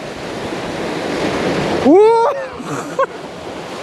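Water splashes and rushes around a water ride at the Tripsdrill theme park, a broad steady wash close by, while a rider lets out a rising vocal exclamation and brief voices come through over the noise.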